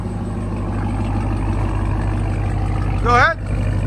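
A 2022 RAM TRX with a supercharged 6.2L Hemi V8 and a muffler delete idles close by with a steady, deep, even rumble, broken near the end by a brief high chirp.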